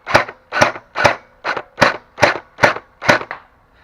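A Scar V2 gel blaster, upgraded with a 1.3 spring, aluminum barrel and DK J8 hop-up, fires nine sharp, evenly spaced snapping shots at a target tied to a tennis court fence, close and loud with no talking.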